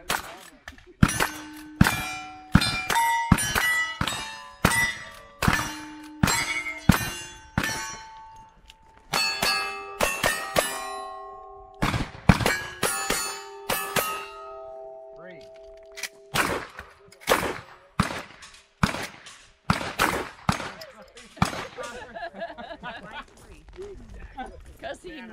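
Rifle shots strike the swinging steel plates of a Texas Star target, each crack followed by a bright ringing clang, repeating in an irregular rapid series with short pauses and no talking.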